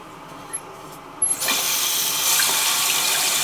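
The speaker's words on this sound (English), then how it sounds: "we'll turn it on and we'll see what happens" A toilet tank refills once the water supply is turned on, a few faint clicks giving way to a steady, close rush of running water that keeps flowing without talk.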